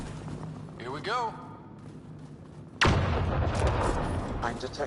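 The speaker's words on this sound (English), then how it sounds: "Wasn't even that big of an explosion." Explosives blast through an ice wall in Mass Effect: Andromeda: a sudden loud boom followed by a sustained roar of crumbling debris and rumble. A voice speaks briefly beforehand.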